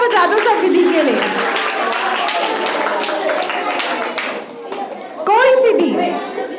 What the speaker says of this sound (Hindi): एक बार जोर से तालियां बजा दो सब विधि के लिए।